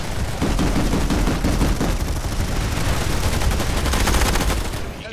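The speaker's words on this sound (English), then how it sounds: "I was trying to shoot the guy who's between you and enemy heavy" Continuous loud gunfire in a multiplayer shooter, dense rattling automatic bursts layered over heavy low booms, steady and close for several seconds before tapering at the end.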